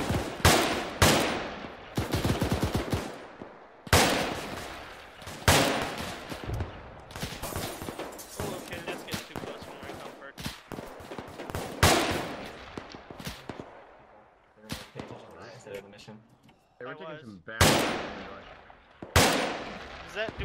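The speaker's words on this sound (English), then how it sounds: "Hey, we're taking bad shots from the north." Arma 3 combat gunfire, loud sharp shots and rapid bursts echoing at irregular intervals, some near and some more distant, with a player speaking briefly between volleys.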